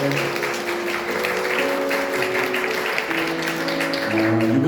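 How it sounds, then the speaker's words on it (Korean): Church congregation applauding to welcome visiting family during a New Year Sunday service, steady broadband clapping throughout with sustained organ or keyboard tones underneath and a few voices mixed in. "박수 한번 환영해 주실까요?"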